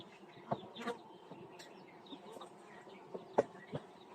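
Carniolan honey bees buzz at the hive in a soft, continuous drone, with louder single bees passing close in several brief swells.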